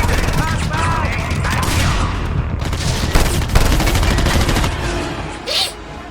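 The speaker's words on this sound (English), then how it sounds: "Sorry, I was in a bad crossfire." Sentry guns in the open-world game Just Cause 2 fire loud, sustained bursts of automatic gunfire with booming impacts, dense and close, with faint voices underneath.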